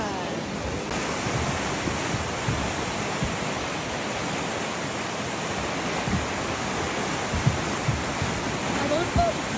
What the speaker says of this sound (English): our stream is like raging.